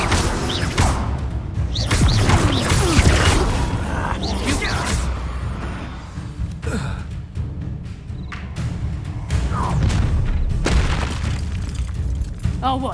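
Fiery spell blasts in a Hogwarts Legacy battle: loud booming bursts and whooshes over a dense, continuous mix of combat effects, with voices calling out during the fight.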